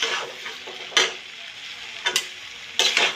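Fried mushrooms stirred through tomato in a pan, with a steady soft sizzle and three distinct scraping strokes spaced about a second apart, close and clear with no talking.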